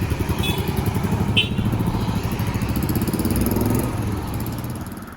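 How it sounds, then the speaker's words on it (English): A Royal Enfield Bullet 350 motorcycle idles nearby through a Pea Shooter exhaust with a steady, deep thumping beat, continuous and fairly loud throughout. "This is my Royal Enfield genuine official exhaust."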